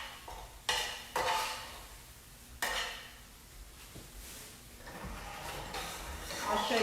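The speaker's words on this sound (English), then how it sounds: "we want to cook the eggs until they're done" Eggs cook in a breakfast skillet with soft sizzling, broken by sharp clinks and scrapes of a utensil against the pan, while a person talks over the kitchen sounds.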